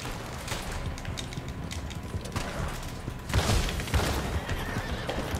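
A horse in the video game Red Dead Redemption 2 whinnies amid dense gameplay noise with clip-clop and scattered gunfire, a steady loud wash of sound throughout with a surge near the middle.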